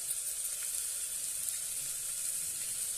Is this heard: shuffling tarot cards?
no